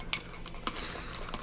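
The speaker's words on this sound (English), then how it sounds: "You're going to stir this, right?" A spoon clinks against the side of a cup while stirring hot cocoa mix, giving a couple of sharp taps over a soft, brief swirl, close and fairly quiet.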